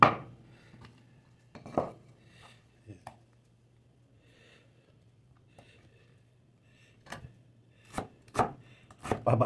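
Onions being sliced lengthwise with a knife on a board, a series of sharp, close chopping taps in irregular bursts, some quick doubles, with quiet pauses between them.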